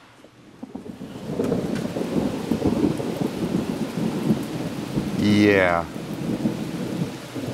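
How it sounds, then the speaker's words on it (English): Steady, heavy rain hisses throughout with low rolling thunder rumbling underneath, while a single short voice cuts in briefly near the end. "Thunderstorm."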